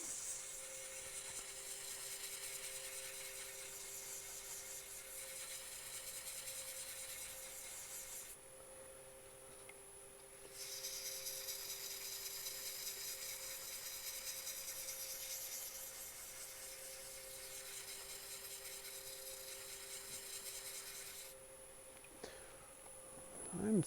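Sandpaper of 220 grit rubbing steadily against a resin pen blank spinning on a lathe, a continuous soft rasping hiss that breaks off briefly twice and then picks up again, recorded at a low level.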